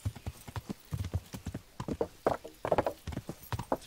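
Horse hooves clip-clop in the medieval video game Kingdom Come Deliverance, a quick, irregular run of close, sharp hoofbeats with a faint snort or whinny mixed in.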